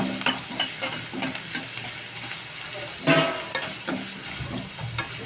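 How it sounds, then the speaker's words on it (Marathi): Finely chopped onion fries in a pan with asafoetida, a close, continuous sizzle punctuated by scraping, clattering stirring strokes at irregular intervals, with no talking. "आता तो असं बारीक चिरून घेतला आणि गुलाब रंग होऊपर्यंत फ्राय करून घेऊया"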